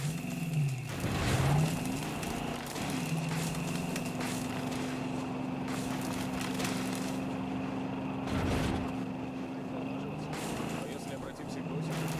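A car engine in Far Cry New Dawn drones steadily while driving, its pitch rising and falling with revs, with louder surges near the start and end, under a voice that talks over it.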